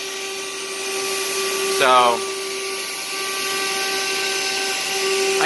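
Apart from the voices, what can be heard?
8mm single flute bit cutting at 21,000 RPM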